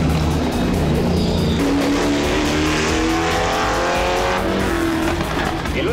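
A roughly 3000-pound Chevelle NASCAR race car driving on a track, its loud engine roaring and revving up and down through corners, close by and continuous.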